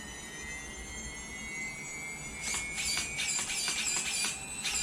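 Losi ProMoto MX RC motorcycle motor and flywheel spinning up: a rising high electric whine with several climbing tones, joined halfway by a rapid stuttering buzz, close and moderately loud.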